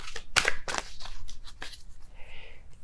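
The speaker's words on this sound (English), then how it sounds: "I'm going to be shuffling until I have a popping card here." Tarot cards being shuffled by hand, giving a series of close, crisp riffling and snapping bursts with short gaps between them, followed by a softer rustle near the end.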